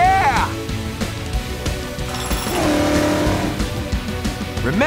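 A cartoon monster truck engine revs and surges in the Blaze and the Monster Machines racing game, loud and close with rising whines and a brief tire squeal, mixed with lively character voices and music.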